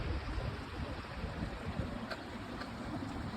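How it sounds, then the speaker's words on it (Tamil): A small waterfall stream runs beside a coastal hiking path, giving a steady broadband rush of flowing water, constant and moderately faint, with no voices. "இந்த மலையை சுற்றி ஒரு சின்ன ஒரு அருவி போகுது"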